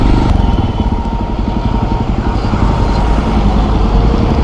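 Close, loud motorcycle engine droning steadily while riding through heavy traffic on a highway, with constant road and wind noise and no talking.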